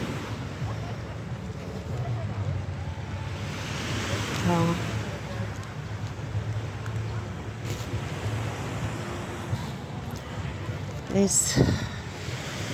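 Gentle sea waves washing onto the beach at Nha Trang, Vietnam, in the early morning, a soft steady surf wash under wind, with someone speaking briefly over it.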